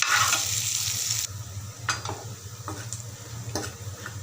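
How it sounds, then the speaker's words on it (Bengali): Onions fry in salted hot oil for eggplant bharta with a loud, steady sizzle that drops slightly partway through, while a spoon scrapes and stirs with intermittent clinks; nobody speaks. "আগে আমি একটু পেঁয়াজ ভাজি করে নেব।"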